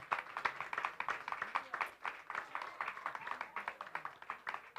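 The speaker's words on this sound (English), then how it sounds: "Let's clap for them." An audience applauds award winners at a green innovation competition. Quick clapping rattles through the whole stretch, while a voice talks over it.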